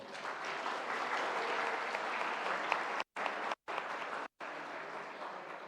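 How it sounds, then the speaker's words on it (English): Audience applause at an award presentation and closing ceremony for a competition: dense, sustained clapping from a crowd, even and fairly distant, broken by three brief dropouts to silence. "Let's give a round of applause for everyone's hard working and dedication."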